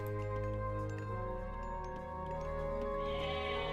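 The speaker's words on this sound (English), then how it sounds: "And we've got some goats being summoned back." Goats in the Age of Mythology strategy game bleat faintly a few times over a steady layer of game music and ambient tones.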